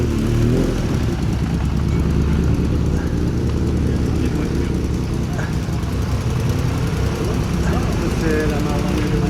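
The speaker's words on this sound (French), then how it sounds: "Ah, il y a encore une moto." A motorcycle passes at a collector car gathering in Bletterans, its engine a steady, loud, close rumble for the whole stretch, mixed with other engine and crowd noise.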